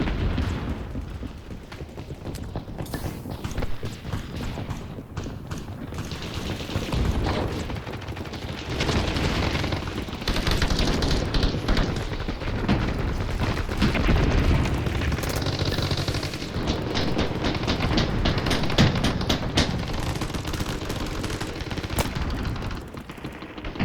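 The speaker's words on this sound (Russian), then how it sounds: "Теперь взрывы и выстрелы отчетливо слышно издалека, и даже примерное местоположение их источника" BattleBit Remastered game combat with dense, continuous machine-gun fire and booming explosions, loud and sustained throughout with no voices.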